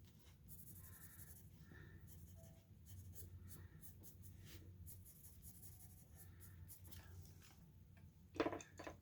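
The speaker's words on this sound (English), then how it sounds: "Gonna enjoy a little coloring." Steady scratchy strokes of Prismacolor colored pencil on paper, a soft continuous rasp with short pauses between passes, close up and alone.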